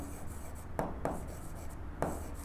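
Chalk or a marker taps and scratches on a classroom board in a few short, separate strokes. The writing happens during a maths lesson on a geometry problem.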